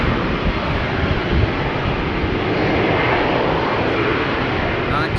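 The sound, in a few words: Embraer jet at Amsterdam Schiphol Airport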